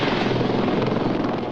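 Lynx military helicopter armed with Sea Skua missiles flying overhead, a loud, steady rotor chop and engine whine filling the short stretch without any voices.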